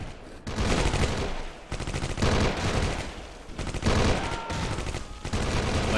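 Rapid gunfire in the war game Close Combat Cross of Iron: dense, loud bursts of automatic fire and rifle shots in uneven volleys, with brief gaps between them.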